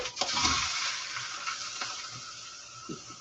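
Ground beef, a frozen block, sizzles steadily in a pan, a continuous close frying hiss with occasional soft scrapes and clinks of a utensil.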